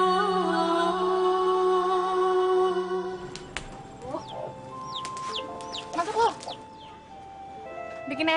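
Chickens cluck and squawk at a rural Indonesian homestead as they are caught, with scattered short calls and rustling, moderately near, amid background noise.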